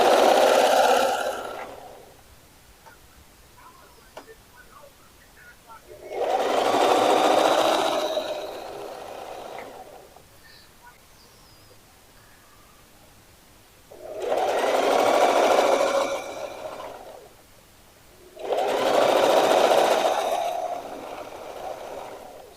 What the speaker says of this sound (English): So we're sewing all the way around.